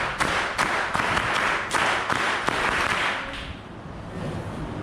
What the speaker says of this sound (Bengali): স্কাউট তালি বাজায় জোরে।